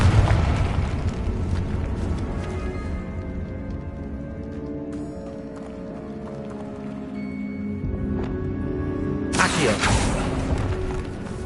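Confringo blasting curse explosions in Hogwarts Legacy on PS5, a loud booming burst at the start fading into rumble, with another bright blast near the end among game sounds.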